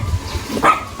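A dog under a tree, resembling a dog named Bruno, gives a single brief, fairly close bark amid soft outdoor background noise.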